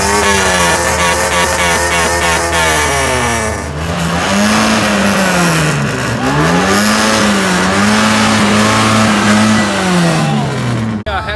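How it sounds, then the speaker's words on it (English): Car engines revving hard at a car show rev competition in Malaysia, loud repeated throttle blips and sustained high revs rising and falling close by, with pitch sweeping up and down over several seconds and a sharp cutoff at the end. "The rev competition right now, so it's gonna be a rev, a lot of revs, so cover your ears."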